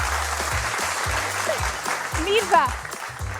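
Studio audience applause during a quiz show, a steady close patter of clapping with a voice speaking over it.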